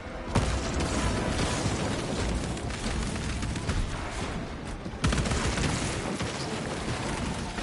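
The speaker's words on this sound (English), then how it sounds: "Deploying frag grenade." Frag grenade blast and sustained gunfire in Warhammer 40K Space Marine on PS5: a dense, loud, continuous barrage of shots and explosions, with sharp surges near the start and midway.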